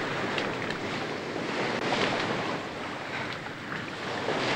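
Sea waves wash steadily onto a shore, a constant broad roar of surf mixed with wind noise on the microphone, loud and unbroken with no voices.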